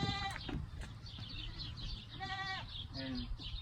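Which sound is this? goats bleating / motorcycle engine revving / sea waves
goats bleating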